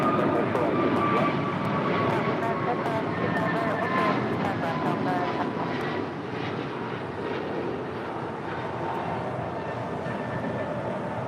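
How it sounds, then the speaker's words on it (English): An American Airlines A321neo jet departing LAX, a broad engine roar that is loud at first and eases slightly, with a person talking over it throughout. "This is American Airlines 2646 departing to Philly on an A321neo"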